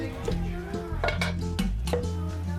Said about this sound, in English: And we will take our jars out.